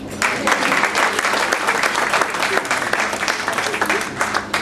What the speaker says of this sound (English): a big round of applause, please, for our match ball sponsor, the University of Northampton